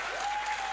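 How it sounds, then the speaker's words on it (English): An audience at a school Grade 7 farewell luncheon gives a student a short burst of clapping, a dense, even patter of many hands that stays level through the brief moment. "So please, another round of applause for Ethan."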